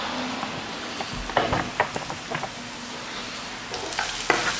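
Onions frying in a pan, a moderate sizzle broken by bursts of stirring and scraping, some clustered together and others spaced apart.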